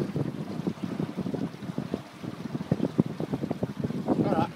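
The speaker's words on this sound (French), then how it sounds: "Voilà, là il y a du vent." Wind rushes and buffets the microphone aboard a sailboat at sea off Port Camargue, gusting unevenly over water and boat noise, with a voice speaking faintly at moments.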